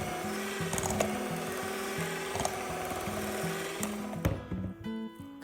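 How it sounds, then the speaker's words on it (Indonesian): An electric mixer beats sticky gluten-free bread dough for white sandwich loaf, a steady whirring motor with rhythmic clunks as the beaters knock the bowl, stopping abruptly near the end. "Kocok terus hingga permukaan adonan menjadi halus."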